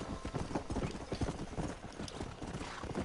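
Horse galloping in Red Dead Redemption, rapid rhythmic hoofbeats thudding close and steady throughout, with faint tack and gear rattling underneath and no talk.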